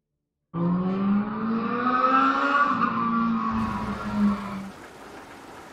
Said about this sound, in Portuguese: o cara passa de moto